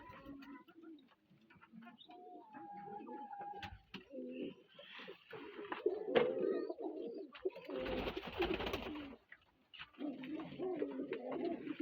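Several pigeons in an aviary coo in low, throaty bursts at close range, overlapping irregularly, with a brief flutter of wings midway.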